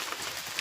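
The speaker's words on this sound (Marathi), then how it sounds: "हा इकडे पाऊस चालू आहे" Rain falls steadily outdoors in a soft, even hiss of drops hitting surfaces, with no voices heard.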